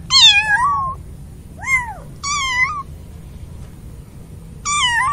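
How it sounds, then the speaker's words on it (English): A cat meows four times, loud and close, in clear separate calls with short pauses between them and no other sound around them. "C for cat."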